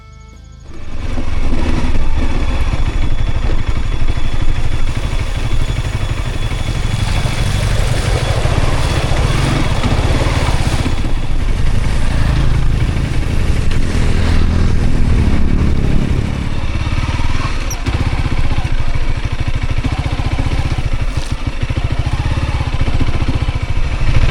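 Dirt bike and Honda Wave motorcycles ride along a rural village road, their engines a steady, loud drone with rough clattering texture that continues throughout, without talk.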